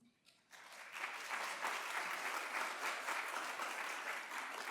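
An audience at a political speaking event breaks into sustained, dense clapping that swells quickly after a brief quiet start and holds steady, loud and near, with no voices over it.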